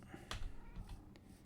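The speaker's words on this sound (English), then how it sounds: "Yep, there's the cat." A cat meows in a Minecraft village, a short faint mew followed by a couple of softer ones over quiet game ambience.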